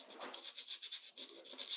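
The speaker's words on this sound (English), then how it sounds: "I'm going to use my smaller size 2 stiff scrubber." A stiff size 2 scrubber brush rubs back and forth across watercolor paper in quick, close strokes, a soft dry rasping that comes and goes in short bursts, with no talking.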